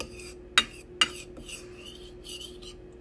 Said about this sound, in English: It's a lot easier with a whisk, but mine is currently indisposed, so I have to use a fork.